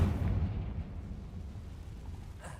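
A Confringo fire spell in a Hogwarts video game bursts in a deep, rumbling explosion that fades out over a couple of seconds, followed by a short bright shimmer near the end.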